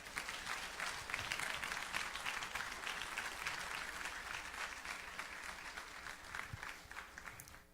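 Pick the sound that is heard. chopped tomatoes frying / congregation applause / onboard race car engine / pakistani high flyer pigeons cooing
congregation applause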